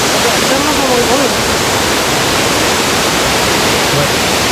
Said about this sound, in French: on s'est arrêté sur cette cascade qui est trop belle